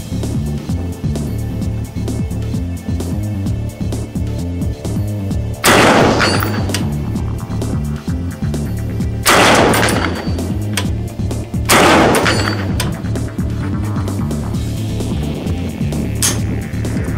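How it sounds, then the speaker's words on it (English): Three loud, close gunshots from a CORE 15 M4 Scout AR-15 rifle fired at intervals of a few seconds over a steady low hum and background rumble. "We're gonna load in another 10 rounds and just do a little more shooting."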